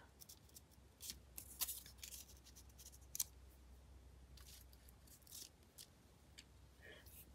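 Scissors snipping paper in a quiet room, a scattering of short, crisp cuts at irregular intervals, soft and close over low background hum.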